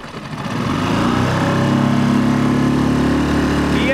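Small 5-horsepower outboard motor on a rigid boat revving up from low to a steady high-pitched drone, loud and close, holding its buzzing whine as it gets up to speed.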